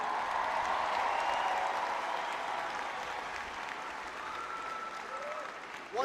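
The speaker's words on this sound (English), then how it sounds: "give Mark a big round of applause for the great job he did." An audience at a presidential campaign speech claps for a previous speaker, a dense burst of applause that starts strong, gradually thins and softens, then picks up slightly at the end.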